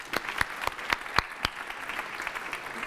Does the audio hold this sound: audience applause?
yes